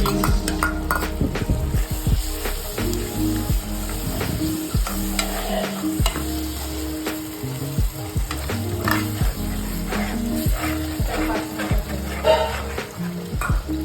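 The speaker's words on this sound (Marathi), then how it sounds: "आता ह्याच्यामध्ये आपण टाकणार आहोत आलं लसूण आणि मालवणी मसाला मिक्स" Ginger, garlic and Malvani masala sizzle and fry in hot oil for a spicy misal gravy, with steady loud crackling and repeated scraping and clinking of a spoon stirring against the pan throughout.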